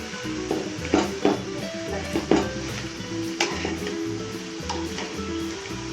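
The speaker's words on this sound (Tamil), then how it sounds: "லைட்டாக மேலே எண்ணெய் ஊற்றுவோம்" Oil sizzles in a pan while dried red chillies cook, a constant frying hiss punctuated by several sharp clinks and scrapes of a utensil stirring against the metal, with no talking.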